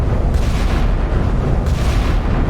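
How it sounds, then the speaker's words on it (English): Heavy 16-inch battleship guns firing in the naval combat game Sea Power, a dense continuous low rumble of booms and blasts with no clear gaps, loud and sustained throughout. "16-inch guns going out."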